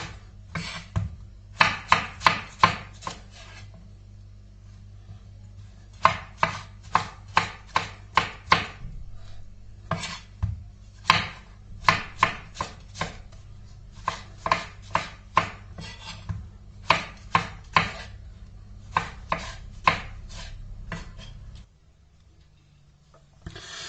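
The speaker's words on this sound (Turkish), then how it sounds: "3 tane patlıcan, 2 tane patates, 5 tane domates, 4 tane biberimizi doğradık" A knife chops eggplant, potatoes, tomatoes and peppers rhythmically on a cutting board in quick bursts of several strokes with brief pauses between, fairly close and crisp, then stops.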